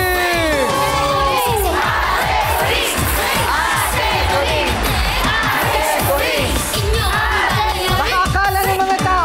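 A large crowd roars with cheering, shouts and yells in a sustained, dense wall of voices, loud and close throughout, with whoops and individual cries rising above the mass.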